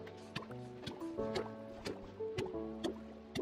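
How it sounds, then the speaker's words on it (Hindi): Water being filled in the Minecraft video game, a series of short splashing and dripping bursts over game music. "ये पूरी तरह मैं पानी भरने की कोशिश कर रहा हूँ"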